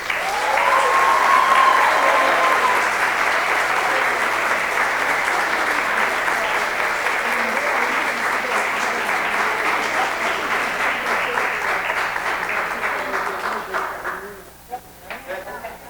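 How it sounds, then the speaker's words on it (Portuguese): An audience at a solemn commemorative session for a school's 50th anniversary gives loud, sustained applause that holds steady for a long stretch before thinning out to scattered claps. "merece todos os nossos aplausos"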